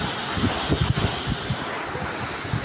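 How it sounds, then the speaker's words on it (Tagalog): Strong typhoon wind roaring across the microphone with gusty low rumbles, the rain blending into a steady, loud outdoor wash with no voices. "Sobrang lakas ng hangin at ulan"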